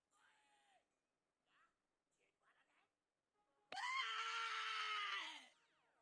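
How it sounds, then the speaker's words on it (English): A man's loud, sudden scream in a dark graveyard, a single drawn-out cry lasting about two seconds that bursts out after a stretch of near silence broken only by faint rustles. "When I heard his scream,"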